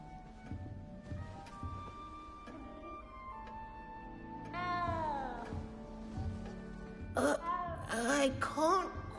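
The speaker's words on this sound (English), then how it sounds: "You don't need to be frightened, little cat." Frightened little cat meowing in Hogwarts Legacy, several drawn-out, rising and falling mews that grow louder toward the end, heard over soft game music.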